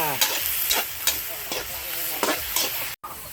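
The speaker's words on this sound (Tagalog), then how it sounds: "Gisa natin, gisa-gisa" Food sautéing in a pan with steady sizzling and frying, stirred with repeated scraping strokes at a regular rhythm, close and fairly loud, with no talking.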